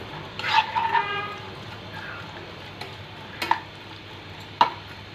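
Onions, green chillies and curry leaves fry in hot oil for a spicy chicken liver fry, a faint steady sizzle broken by a few sharp spoon clicks and stirring scrapes.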